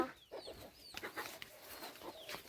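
A hen settling in to lay eggs gives repeated close, soft clucks and short rising calls, with no one talking.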